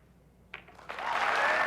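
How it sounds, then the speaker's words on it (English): Crowd at a 2006 nine-ball pool match between Efren Reyes and Ralf Souquet breaks into applause, starting with a few scattered claps and swelling into steady clapping. "you hear the response from the crowd"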